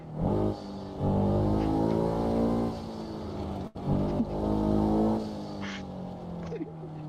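Car engine revving hard while overtaking a truck in a driving video game, a loud sustained roar with rising and falling pitch across the whole stretch, briefly cut midway, with a faint tire squeal near the end.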